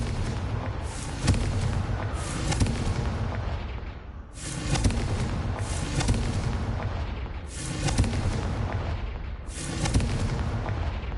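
Video game explosions from the Confringo fire spell, a run of heavy, loud booming blasts recurring about every two seconds, each with a long rumbling tail and no talk.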